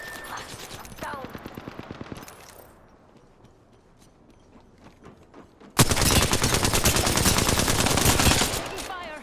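Automatic weapon fire in the battle royale game Apex Legends: rapid bursts at the start, a quieter stretch of scattered shots, then a loud sustained burst of gunfire near the end.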